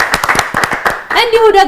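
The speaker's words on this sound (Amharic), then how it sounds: "አጨብጭቡላት" An audience claps for a child prize winner at a televised Easter children's competition, a short burst of several sharp claps that gives way to a voice speaking.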